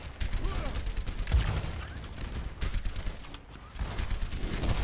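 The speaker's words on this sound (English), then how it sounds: "There's still that barrage." A sustained barrage of gunfire rattles through an Overwatch quick-play match, rapid overlapping shots and mechanical clatter running continuously under players talking.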